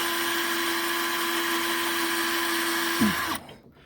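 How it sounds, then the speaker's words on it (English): A power drill with a step bit whines steadily at a constant pitch, then bogs down and winds to a stop near the end. "if you can angle that step drill"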